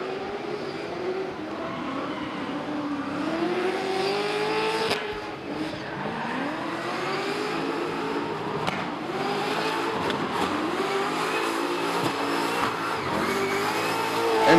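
A drift car on a competition course at Baypark Stadium powers out of a corner, its engine loud, close and revving hard in a steady, sustained roar with rising pitch sweeps.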